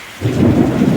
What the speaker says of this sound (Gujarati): જો કડાકા ભડાકાન